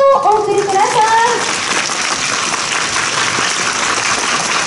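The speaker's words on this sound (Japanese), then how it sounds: "会場の皆様、大きな拍手をお送りください。" Audience applause after a samurai warrior troupe's armored photo session at an event hall, a broad steady clapping wash that follows a brief spoken announcement at the start.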